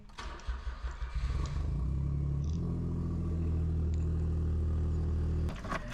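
A Smart car engine, part of an off-road build, cranks briefly and catches, then settles into a steady, loud idle close by before shutting off near the end.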